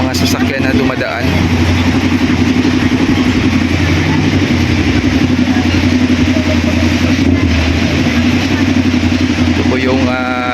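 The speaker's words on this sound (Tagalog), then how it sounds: "mga sasakyan na dumadaan." Steady, loud road traffic of cars and motorcycles passing continuously on a street after a storm, engines droning and revving close by with no break throughout.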